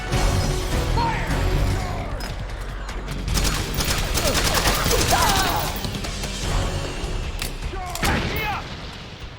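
Dense gunfire bursts in Metal Gear Solid 4: Guns of the Patriots, continuous crackling volleys and crashes across the whole stretch, loud and close, with soldiers shouting orders over the shooting.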